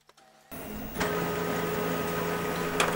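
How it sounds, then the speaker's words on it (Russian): An HP LaserJet P3015 laser printer starts printing a demo page: a click and whir build into a steady mechanical hum with a tonal drone, close and fairly loud, a brief clack near the end. "Давайте распечатаем что-нибудь из меню."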